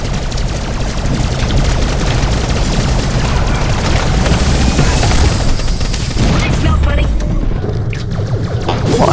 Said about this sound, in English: Hang on, I am shooting the guy,